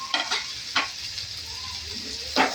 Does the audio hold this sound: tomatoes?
yes